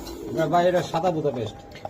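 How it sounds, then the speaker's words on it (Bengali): A pair of white Budapest pigeons at a pigeon market gives soft, throaty cooing close by, heard over and alongside nearby voices. "কত সুন্দর একটা জোড়া এটা কি কবুতর ভাই"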